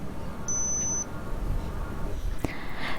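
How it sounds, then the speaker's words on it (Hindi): Digital thermometer taking a body temperature reading gives a single short, high electronic beep, faint and close, over a quiet room hum. "अब हमने तब तक वेट करना है जब तक ये बीप की आवाज़ नहीं आ जाती।"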